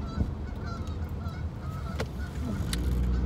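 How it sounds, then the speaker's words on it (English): Geese honk repeatedly at close range in an outdoor spot, with sharp calls rising over a steady background rumble that builds toward the end. "These doggone geese, right?"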